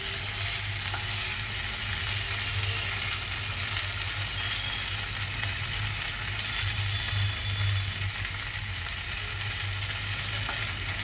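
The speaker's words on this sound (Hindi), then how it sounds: "इसे हम गोल्डन ब्राउन होने तक हम फ्राई करेंगे।" Food sizzles continuously in hot oil while frying to golden brown, a steady close crackle with a low hum underneath and occasional stirring scrapes, no one talking.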